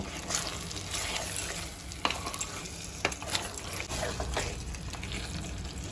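Ground cumin and coriander powder fried into a masala for a chicken dish, with steady sizzling under repeated scraping and stirring strokes in the pan, fairly close, and a few sharper clicks of the spoon.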